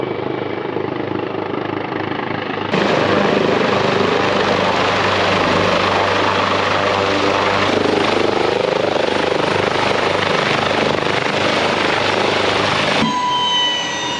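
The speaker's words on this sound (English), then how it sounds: "But obviously having the chopper here doesn't look good." A helicopter thunders close at a campground, its rotor chop and engine roar jumping in loud and holding steady for about ten seconds before easing slightly at the end.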